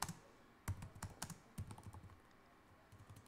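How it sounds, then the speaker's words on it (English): Irregular clicking of computer keys being typed, a burst of keystrokes with short pauses, fairly close and clear with no talking. "Typing it in."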